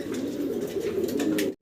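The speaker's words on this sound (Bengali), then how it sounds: "সিঙ্গেল এক পিস কবুতর দেখাইতেছি" Fancy pigeons coo steadily at a pigeon farm, a close, continuous low burbling chorus that fills the whole stretch before cutting off abruptly.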